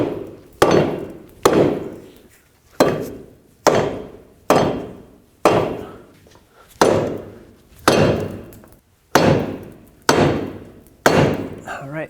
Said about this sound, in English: Grab a rubber mallet and tap it up.